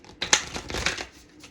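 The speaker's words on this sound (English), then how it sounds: "I'm going to shuffle 2 more times" A quick riffle of cards followed by soft papery shuffling, close and fairly quiet, lasting just over a second.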